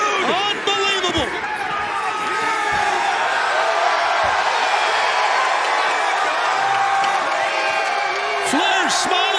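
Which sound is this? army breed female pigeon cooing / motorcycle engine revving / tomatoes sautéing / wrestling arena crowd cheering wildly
wrestling arena crowd cheering wildly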